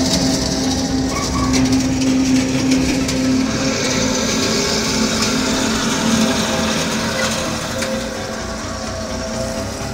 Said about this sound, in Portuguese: A esteira em marcha lenta